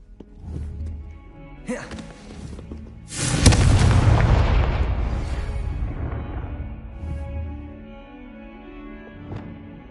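A Confringo blasting spell goes off in Hogwarts Legacy with a sharp crack, then a big booming explosion whose roar swells and slowly fades over several seconds, preceded by a smaller thump.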